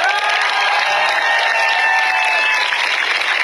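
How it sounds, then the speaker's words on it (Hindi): A crowd clapping steadily and loudly throughout, a dense continuous wash of applause with faint cheering mixed in. "ताली बजाओ ढंग से"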